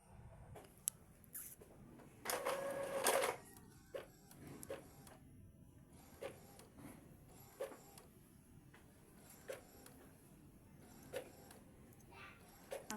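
An Epson L3210 inkjet printer whirs and clicks softly as it feeds a page, with short mechanical bursts and quiet taps throughout.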